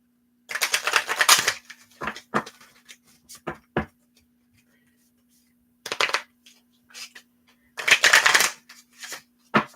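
Tarot cards being riffled and shuffled by hand in bursts, a long rustling run at the start, scattered single flicks and taps in the middle, then another dense shuffle near the end; close and crisp, with no talking.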